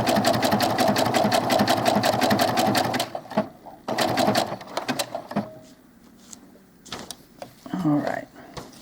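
A sewing machine stitches doll clothes in fast rhythmic bursts, running steadily for about three seconds, then in shorter runs with pauses and handling clatter, heard close and loud.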